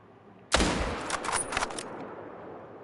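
A single loud rifle shot aimed at a moose in a hunting game cracks sharply, followed by a rolling echo that fades over about a second and a half.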